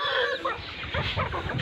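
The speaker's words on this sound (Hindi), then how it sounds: "मुर्गियों को प्याज और टमाटर खिला रहे हैं।" Chickens cluck close by while pecking at onions and tomatoes, a short run of busy, overlapping clucks.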